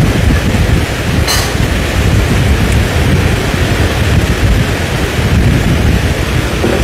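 Steady, loud rain pours down throughout a storm, a dense continuous hiss with occasional heavier bursts and a low rumble beneath, no voices.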